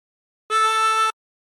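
A single harmonica draw on hole 3, bent down to an A, held steady for about half a second as one clean, fairly loud reedy tone with no voices.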